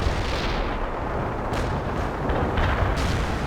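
Artillery fire in the video game World in Conflict makes a dense, continuous roar of heavy booms and rumbling blasts, with a few sharper bursts layered over the loud wash of explosions.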